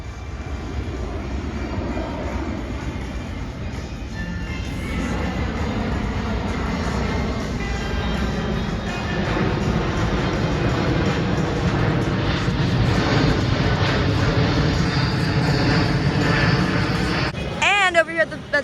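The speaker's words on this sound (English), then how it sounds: "this plane is super, super low" A low-flying airplane passing over Six Flags Great Adventure in New Jersey produces a loud, sustained engine roar that swells and holds for many seconds, with voices talking beneath it.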